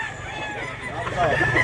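Gamecock roosters at a poultry vendor's yard in Mantalungon, Cebu, let out a short crow near the end, rising over a steady murmur of background noise and faint voices.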